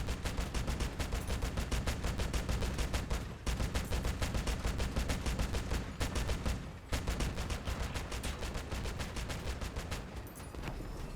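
Rapid automatic gunfire from the vehicle combat game Crossout, with dense repeated bursts of sharp shots broken by a few brief pauses, loud and continuous.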